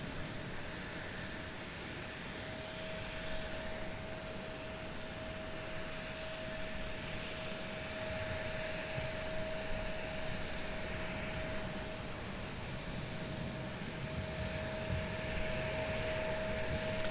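A CRJ regional jet airliner at Raleigh-Durham airport in stormy weather gives a steady, broad engine roar with a sustained whine, holding level and building slightly as it passes, with no talk.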